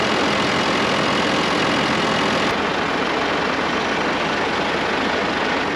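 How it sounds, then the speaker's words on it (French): A farm tractor engine runs steadily under load as it tries to pull forward, giving a loud, constant, broadband roar that holds with almost no change in level throughout. "Le but c'est de faire avancer le tracteur d'au moins 10 mètres pour libérer l'herse rotative."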